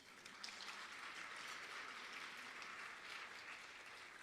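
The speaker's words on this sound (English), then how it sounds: "Yes, we should clap." Audience at an honors and awards ceremony applauding, a dense and steady wash of many hands clapping throughout, quiet and heard from a distance, with no speech over it.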